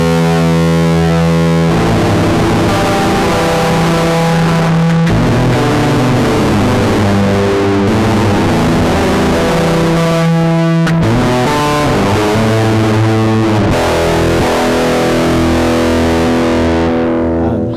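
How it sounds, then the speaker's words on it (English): Loud, heavily distorted synthesizer tones from a Soma Lyra-8 drone synthesizer buzz and grind in sustained chords, shifting to new pitches every few seconds with no talking. "Personally, I found that the distortion is pretty gnarly."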